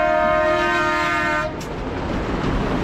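A train passes with a sustained, loud horn blast for about a second and a half. The horn cuts off into a steady, rumbling rail noise close by, with no talking.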